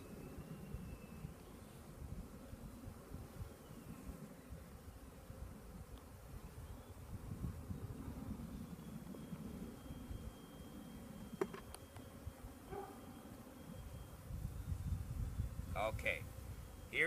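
A low, steady swarm of honeybees droning up close around their queen while being hived, a dense buzzing that swells toward the end, with faint handling noises.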